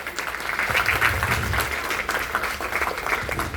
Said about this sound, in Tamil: அந்த குழந்தையோட பேரண்ட்ஸ்க்கு முதல் ஒரு கைத்தட்டல்